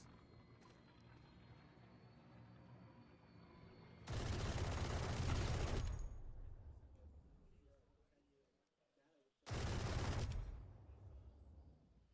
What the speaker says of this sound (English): Robin using Odin to try and shoot through the walls.